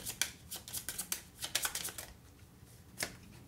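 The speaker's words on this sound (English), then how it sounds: "It can't hurt to give it a quick shuffle" A deck of cards for the Oathsworn: Into the Deepwood board game gets a quick shuffle up close, with crisp riffling bursts in quick succession and then one last snap.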